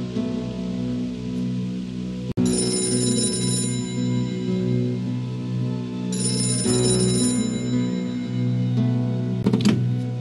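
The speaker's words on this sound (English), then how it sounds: "That phone is about to ring." Video game telephone in Gray Matter ringing loudly in repeated electronic bursts, two long rings separated by a pause, heard alone over a steady humming backdrop.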